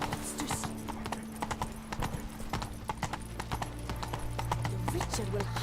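Roach the horse trots along in The Witcher 3, hooves clip-clopping in a steady, fairly close rhythm over a low hum, with voices talking at times alongside.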